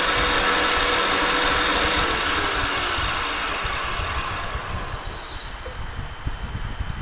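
Continuous hiss of sandpaper against a spinning wooden acorn box on a lathe, over the motor's low hum, fading a little toward the end.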